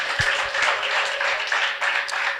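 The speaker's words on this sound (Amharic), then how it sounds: "ጨብጨባና እልልታ ለእግዚአብሔር ክብር" A church congregation claps in steady rhythm, with sustained high ululating cries running over it, loud and close throughout.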